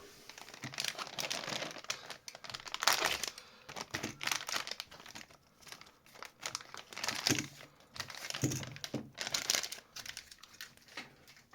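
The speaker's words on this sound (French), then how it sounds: "du coup, je déballe les toupies" Takara Tomy Beyblade Burst spinning tops, including B-205 Spriggan and Ultimate Valkyrie, are unpacked from crinkly plastic packaging, with close, quiet rustling and crackling bursts coming in irregular clusters and no talking.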